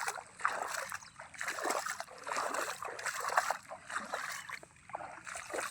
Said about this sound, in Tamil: இப்போ நம்ம தண்ணியில் தான் நடந்து போயின்னு இருக்கோம்